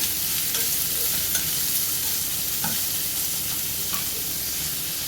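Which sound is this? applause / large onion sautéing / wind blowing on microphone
large onion sautéing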